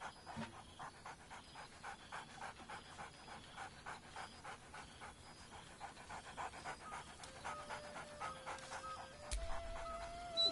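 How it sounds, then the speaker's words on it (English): Scratch the dog in Baldur's Gate 3 pants steadily and fairly close, a soft rhythmic huffing that carries throughout, with a brief whine or bark near the end over quiet game music. "Scratch barks merrily in something like agreement."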